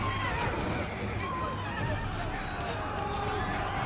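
Horse neighs and whinnies from cavalry in the strategy video game Total War: Three Kingdoms, rising over a dense, steady battle din with galloping hooves, while someone talks over it.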